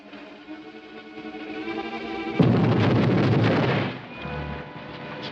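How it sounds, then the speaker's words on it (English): A radio drama explosion effect beneath a bank, opening as a low rumble, then bursting into a loud, broad roar that sustains for about a second and a half before decaying into a lower rumbling tail. "Explosion. Beneath bank."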